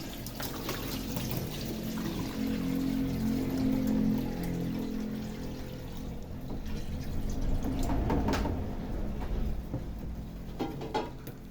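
Coconut milk pours into a pot of crab with malunggay for a spicy coconut stew, a steady liquid splash and gurgle running throughout at close range.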